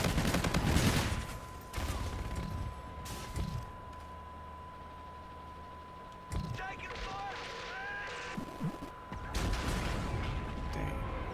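Gunfire exchanges in the futuristic shooter Call of Duty: Infinite Warfare, with bursts of loud, rapid shots at the start and end and scattered mechanical clatter between, over a steady background tone and game voices.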